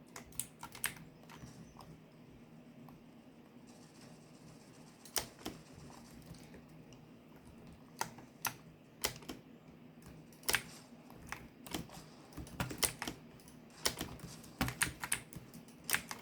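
Computer keyboard keys click in irregular bursts of taps during a Fortnite session, close and fairly crisp over a quiet hum, with no talking.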